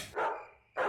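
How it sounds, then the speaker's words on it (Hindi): Two loud barks from a dog, separated by a short pause, close by and clear with no talking. "आज वह कुछ ज्यादा ही भौंक रहा है।"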